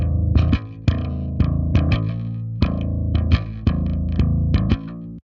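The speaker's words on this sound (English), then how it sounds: "I'm using the Ampeg SVT by Brainworks that's emulating an Ampeg" Bass guitar through an Ampeg SVT amp emulation with treble and bass boosted and ultra high and ultra low engaged, a loud, gritty riff of punchy plucked notes in a steady groove, played alone.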